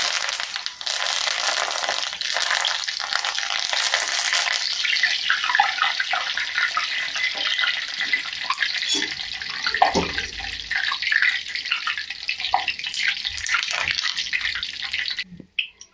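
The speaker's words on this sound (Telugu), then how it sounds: "కరివేపాకు వేగింది." Curry leaves fry in hot oil while making karam boondi, giving a continuous bright crackling hiss that fills the scene, then cuts off sharply at the end.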